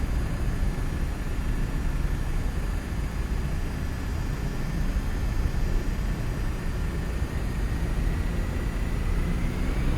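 A Robin DR401 light aircraft engine in X-Plane 11 drones steadily and loudly during takeoff, a constant roar with a faint rising whine as it gathers speed.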